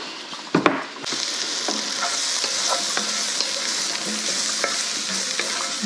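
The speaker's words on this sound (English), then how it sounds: "I'm going to stir that for about a minute, just long enough to get that raw flour flavor out of there" A spoon stirs a tablespoon of flour into browned lamb sizzling in a pot for Irish lamb stew. Steady frying crackle fills the clip, with scraping stir strokes and a few clinks up close.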